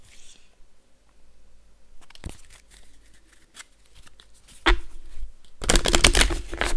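Tarot cards shuffled and handled, quiet rustling and small taps at first, then a louder burst of riffling card shuffling near the end, close and alone.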